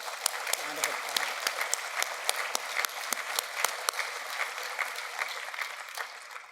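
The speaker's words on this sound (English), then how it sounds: "So if we could take a second and give them another round of applause." At a general counsel of the year awards evening, an audience gives finalists and award recipients a sustained round of applause, a steady clapping wash with crisp individual claps and brief faint voices near the start.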